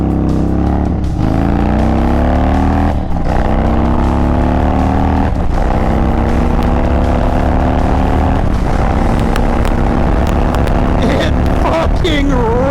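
An Indian Chief Dark Horse motorcycle revs hard in sport mode, close and loud, its engine note climbing through several gears with brief drops at each shift, and a voice breaks in near the end.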